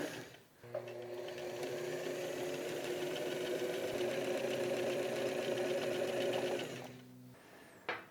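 A sewing machine hems around the top of a backpack lining, running in one steady, continuous whir for several seconds, then stopping, with short quiet gaps at either end.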